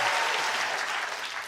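Short burst of close, dense clapping from a studio audience, loud and steady throughout, fading slightly at the end.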